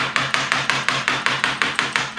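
A small hammer taps throttle shaft seals down flush, about a dozen sharp, even, evenly spaced metallic taps in quick rhythm, close and loud with no talk.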